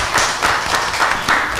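Audience clapping at a candidate forum luncheon following a candidate's speech, a steady patter of many hands at moderate distance with no talk over it.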